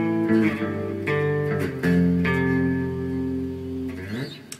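A clean-toned electric guitar plays the fill from a song, a few sustained notes and short slides with a bend at the end, fairly close and alone.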